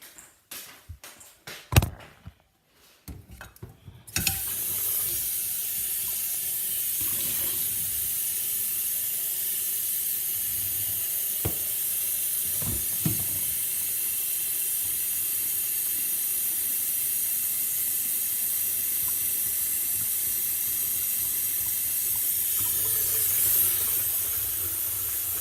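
Water runs from a tap into a pan as a steady, close hiss of flowing water that lasts about twenty seconds, after a few brief knocks and clatters at the start.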